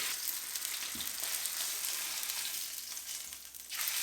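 An oiled sirloin steak fries in a pan, giving a soft, even sizzle throughout with a faint thump near the middle.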